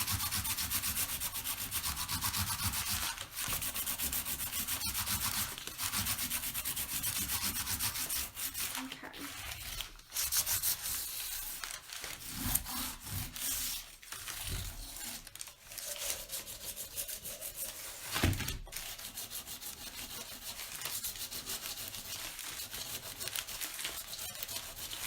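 Continuous rough rubbing of sanding on a painted chalk sign, close and steady, with occasional knocks and brief pauses as the stroke changes.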